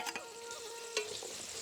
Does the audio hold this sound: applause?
no